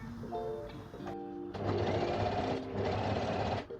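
A sewing machine fitted with a blind hem foot stitches a hem along an overlocked fabric edge, running close and steady in two sustained bursts after a brief start.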